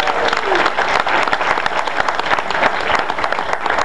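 Comedy club audience applauding a call-out for military veterans in the crowd, dense steady clapping with some cheering throughout, loud and close.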